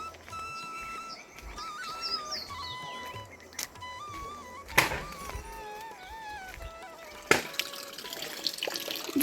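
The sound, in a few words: water flowing from a village spring spout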